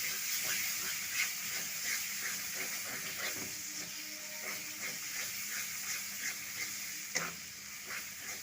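Spice masala with fennel and chili powder sautéing in oil in a pan, a continuous close sizzle and hiss with scattered stirring scrapes and small pops, no talk.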